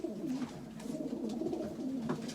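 Racing pigeons coo softly in repeated low, throaty rolls close by in a loft, with faint rustling around them.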